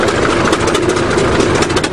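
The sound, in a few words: 20 ton bulldozer engine running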